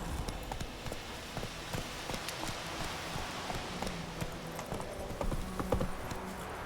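Roach the horse gallops in The Witcher 3, rapid hoofbeats patter continuously at moderate volume over a rainy, noisy game ambience, without talk.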